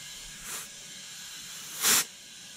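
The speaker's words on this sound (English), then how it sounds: "we are using compressed air right now" Compressed air hisses into the tank of an Ariston Velis 80 water heater during a leak search: two short, airy bursts, the second louder and longer than the first.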